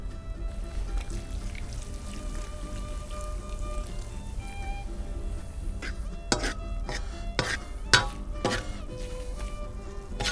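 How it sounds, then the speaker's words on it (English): Modelo beer is poured over onions cooking in a discada, giving a soft sizzle and bubbling under a series of sharp metallic clinks and scrapes in the later half; no voices. "We're gonna put a Modelo in there."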